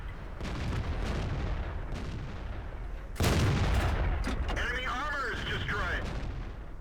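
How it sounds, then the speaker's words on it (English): Tank cannon shots in World of Tanks from an M36 Jackson tank destroyer: a muffled boom early on, then a sharp loud blast at about the midpoint followed by ringing engine rumble, with someone talking over it. "Now you can see I just bounced a shot off a Hellcat."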